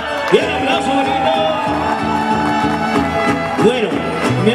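Crowd at a youth mariachi performance for a Women's Day event at a shopping centre cheering and whooping over steady music, a dense continuous wash of voices and shouts without clear clapping.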